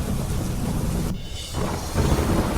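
Heavy monsoon rain pours down along the Sabarmati riverfront in Ahmedabad, a loud, dense, continuous hiss with a low rumble beneath, briefly thinning before returning at full strength.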